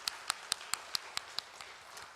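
A church congregation claps in encouragement during a Wednesday evening worship service: a short run of about eight crisp, evenly spaced claps at a steady quick beat, fading toward the end, with no talk over them.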